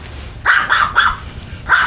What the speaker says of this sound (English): a cute little puppy dog